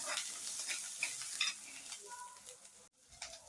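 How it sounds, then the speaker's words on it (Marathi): Green chillies for kharda roast and crackle in a pan while being stirred, producing a quiet, steady sizzle with faint scraping, cut off briefly near the end. "मिरचीला असे डाग आले पाहिजेत अशी परतून घ्यायची आहे"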